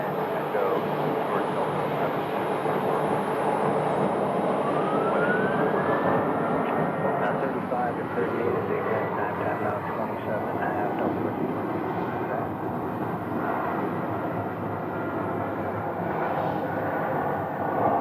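A UPS Boeing 757 cargo jet at Phoenix Sky Harbor gives off a sustained engine rumble and whine, moderately distant and even, with a faint rising tone partway through.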